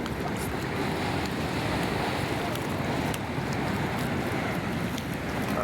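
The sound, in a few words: big ocean waves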